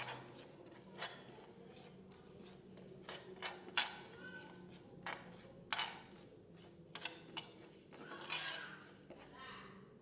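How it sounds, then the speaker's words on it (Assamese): Sesame seeds dry-roasting in a pan while being stirred with a utensil, heard as irregular scraping clinks and taps against the metal, quiet and close, with soft crackling between strokes. "এতিয়া মই এখন টেৱা এখনতে এইখিনি ভাজি ল'ম।"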